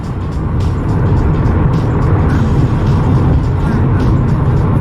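Dodge cars drive past on a road in a loud, dense roar of engines and tires that stays constant and close, with a voice talking over it.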